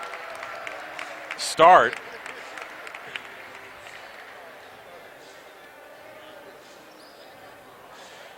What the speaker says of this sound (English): the officials have arrived to probably the loudest cheer that I've seen given to officials in quite a while